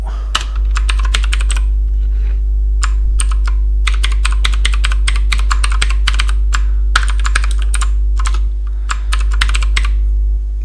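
Steady bursts of fast typing on a computer keyboard while a TeX macro is written, crisp keystrokes coming in uneven runs with short pauses, close and clear over a low steady hum.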